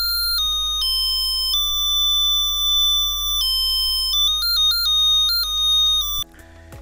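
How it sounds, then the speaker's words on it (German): A Whadda Junior Theremin in discrete mode plays steady electronic single tones, stepping between pitches in clear held notes with a few quicker changes before cutting off near the end, loud and alone with no voices. "Der diskrete Modus spielt dann Einzeltöne."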